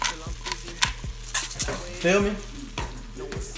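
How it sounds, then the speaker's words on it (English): Crab meat sizzling and crackling in a frying pan while a utensil stirs and scrapes; someone briefly says a few words. "Let that sizzle. Let that cook."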